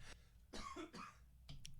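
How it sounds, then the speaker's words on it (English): Two quick coughs from a cough sound button, close and fairly loud, followed by a short throat-clearing burst, with no talking. "Wait, I got my cough button."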